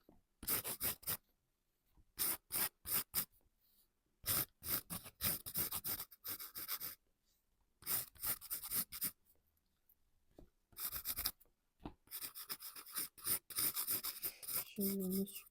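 Pencil scratching on paper while drawing, close and crisp, comes in rhythmic bursts of strokes separated by short pauses; the strokes are quick and dry, with a faint rustle near the end.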